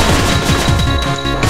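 Rapid gunfire from the Cave Story video game, a dense fast burst of sharp shots over loud game audio, close and continuous for a moment.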